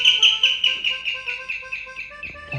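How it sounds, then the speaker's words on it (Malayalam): Small bird calling around a house in Kerala, a rapid series of bright, clear chirps repeated in quick rhythm, close and fairly loud, with faint household noise beneath. "എല്ലാ വീട്ടിലും ഈ കിളി അല്ലേ കലയുന്ന"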